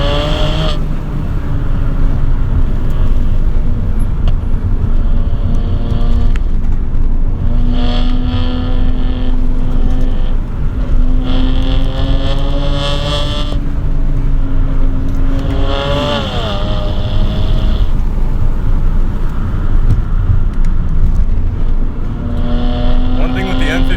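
A 415HP BMW 335i with the N54 engine driven hard on canyon roads, loud sustained engine note rising and falling through repeated shifts and revs, heard from inside the car.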